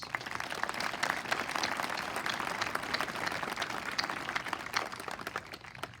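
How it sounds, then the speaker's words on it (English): An audience at the Augusta Prep 2023 graduation ceremony breaks into sustained applause, a dense, loud wash of many hands clapping that holds steady for about six seconds before easing slightly. "A round of applause, please"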